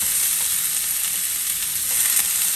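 Sliced onions dropped into hot oil in a very hot pan sizzle and crackle loudly and steadily throughout, close up, with no one speaking.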